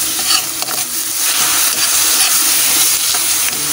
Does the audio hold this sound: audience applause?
no